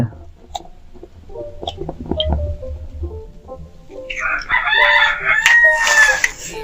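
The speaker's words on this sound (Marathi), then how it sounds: "कोंबडे आसपास ओरडतात ना कोंबडे मस्त कोंबडे रात्रभर ओरडत होते" Roosters crow nearby in a village setting, a long loud crow rising over the last couple of seconds after scattered clucks and knocks, with no talk.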